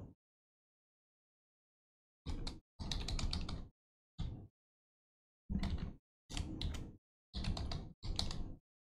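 A user ID and password entered on a computer keyboard, heard as several short bursts of rapid key clatter separated by silent pauses, close and fairly quiet.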